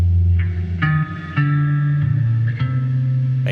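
Low guitar notes played through a bass-tone effects selector, sustained and wobbly with reverb, several notes changing pitch in succession, loud and close with no talk.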